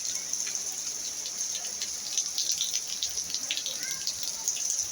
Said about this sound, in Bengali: অনেকক্ষণ ধরে বৃষ্টিটা হচ্ছে